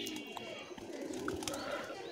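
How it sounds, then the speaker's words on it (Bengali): A pigeon gives soft, low coos nearby in a brief, quiet moment, with faint background ambience and no talking. "কবুতরটা ফাঁকে ডাকতেছে, কাছে আসে, আবার ভয়ে দূরে চলে যায়।"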